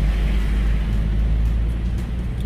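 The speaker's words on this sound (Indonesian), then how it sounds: "Jalan ke puncak ini sekarang di Pasar Cisarua macet." Stalled traffic on the road at Pasar Cisarua near Puncak gives a steady, heavy low engine rumble, continuous and close, with no voices.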